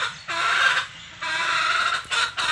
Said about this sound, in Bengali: মুরগি দেখো ডিম দিবে তো কিরকম চেঁচাচ্ছে